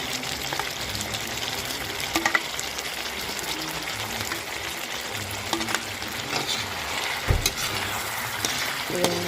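Potatoes fry in a pan with chicken for chicken afritada, a steady sizzle with occasional stirring scrapes and clinks, fairly loud and close, with no voices.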